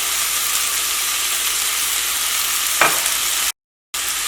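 A spiced masala mixture is stirred in a hot pan, producing a steady close sizzle and frying hiss with a single brief scrape partway through, then a sudden short cut to silence before the sizzle resumes.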